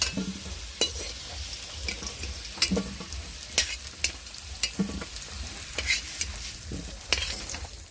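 Fried potatoes are stirred in a hot pan with a constant sizzle, and a spatula scrapes and clicks against the metal at irregular intervals, heard up close with no voices.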